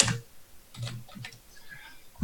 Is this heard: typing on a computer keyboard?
yes